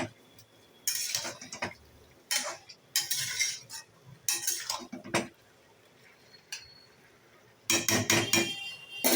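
Chicken rezala being stirred in a pot, a metal spoon scraping and knocking against the sides in several separate bursts of clatter with quiet pauses between, close and fairly loud.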